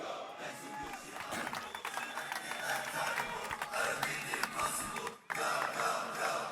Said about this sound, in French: S'il vous plaît, un tonnerre d'applaudissements pour Michael Emery!